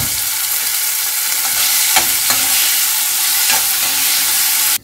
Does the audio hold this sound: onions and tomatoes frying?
yes